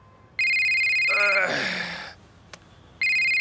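A phone ringing nearby with a bright electronic ringtone that sounds, pauses while someone talks over it, then starts again.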